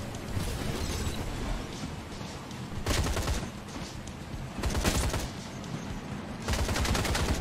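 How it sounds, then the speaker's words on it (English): Gunfire from shooting enemies in the VR video game Atomic Heart (Soviet Lunapark VR): loud, continuous rapid-fire bursts with explosive thumps that swell at intervals, with no talk over them. "Just grab your ammo and just keep shooting."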